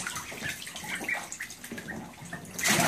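Fifteen-day-old ducklings splash in a shallow bath, water sloshing with light dripping and gurgling, growing louder and busier near the end.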